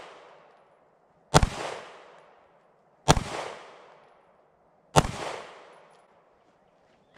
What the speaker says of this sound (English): let's shoot at a target real quick and let's just see what kind of grouping we're getting with this thing